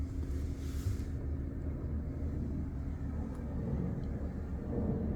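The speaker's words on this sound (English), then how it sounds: "And you can hear a plane in the background." Low, steady jet rumble from an airplane passing overhead in Phoenix, broad and distant, holding for several seconds under faint outdoor background noise.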